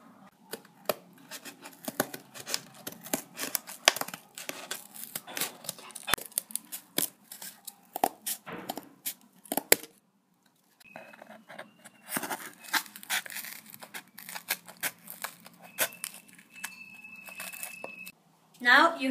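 Scissors snip through paper to cut out circles drawn with a compass, producing many quick, close crisp clips and rustles in irregular runs, with a short pause midway and brief faint tones later.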